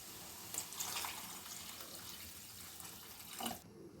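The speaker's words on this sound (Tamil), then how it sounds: "இப்போ இதுக்கு வேணுன்ற தண்ணி சேர்த்திடலாம்." Water poured into a pan of chicken masala, a faint splashing pour with a few brief louder gushes and trickles, close by and without talk.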